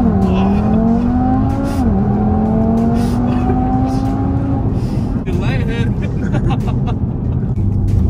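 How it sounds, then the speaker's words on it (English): A car's engine revs and holds high under launch control, a loud steady drone with a brief dip before surging again, while people talk over it. "you push the gas all the way down and you'll know, like you'll see the RPMs, you'll know when it's gonna do the launch"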